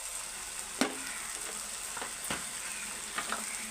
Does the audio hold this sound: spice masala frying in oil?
yes